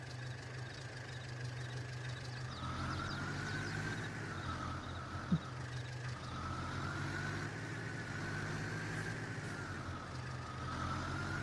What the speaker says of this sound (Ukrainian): трактор їде трудно